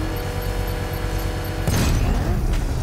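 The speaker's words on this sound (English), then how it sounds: "I can use the power winch to trigger a controlled explosion." A controlled bomb explosion in the video game Batman: Arkham Knight, a sudden loud broadband blast that cuts in over a steady mechanical game drone and rumbles on to the end.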